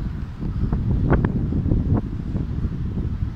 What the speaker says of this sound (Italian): guardate che vento!